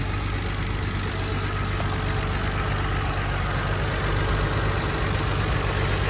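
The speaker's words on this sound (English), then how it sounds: "Engine running." A 1999 Nissan Skyline R34 GT-R V-spec with Nismo intake, intercooler piping and Nismo tune idles steadily, a continuous low engine rumble heard up close with no voices.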